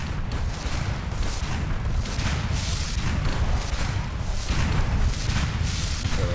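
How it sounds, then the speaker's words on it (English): Continuous heavy mechanical rumble from an airship mod in the game Fallout 4, a dense low chugging drone like a steam engine, loud and steady throughout without pause. "I'm guessing it's like a steam engine."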